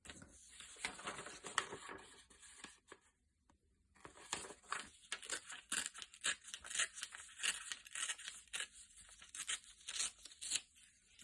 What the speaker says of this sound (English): fold up the excess, which I will tear off